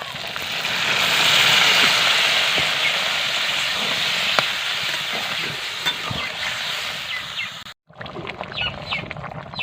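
Water poured onto spice masala frying in a pan sets off a loud, steady sizzling hiss with steam. It cuts off abruptly near the end, then gives way to softer crackling.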